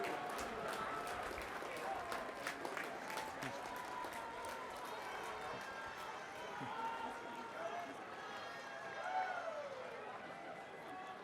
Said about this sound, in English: So let's stand up and thank your folks. Give them a big hand.